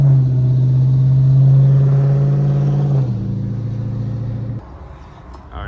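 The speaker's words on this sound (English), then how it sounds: "it definitely backfires a little bit when you get off the gas" A 5.7 Hemi V8 with a bolt-on mod revs loudly up close, holds a strong steady drone, then drops off the gas in two stepped falls, burbling as it winds down.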